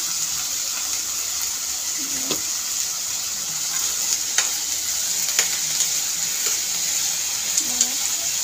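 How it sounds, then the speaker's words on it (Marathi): Finely cut pumpkin fries in a pan with a steady, close sizzle, broken by a few soft scrapes and clicks from stirring, with no talking. "आता मी याच्यात थोडा एक 5-10 मिनटं परतून घेते। त्याला मी थोडंसं फ्राय करून घेते"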